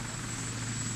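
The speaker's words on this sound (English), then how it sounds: "why not fly a helicopter over the city?" A helicopter flying over a city makes a steady, close, loud rotor and engine drone, a constant whirring hum that fills the whole short moment without any voices.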